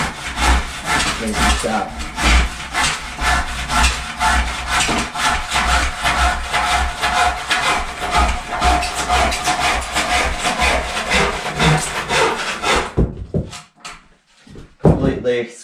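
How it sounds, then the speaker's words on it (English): A hand saw cuts through timber in a run of fast, rhythmic rasping strokes close by for about thirteen seconds, then stops, followed by a few knocks and someone speaking. "Then my aim is to follow that line, and then we know it's going to be a completely square cut."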